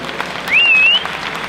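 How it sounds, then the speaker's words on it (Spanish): An audience at a men's physique bodybuilding competition applauds the competitors, a broad wash of clapping from the crowd, with a single high whistle rising over it midway. "Un fuerte aplauso para ellos."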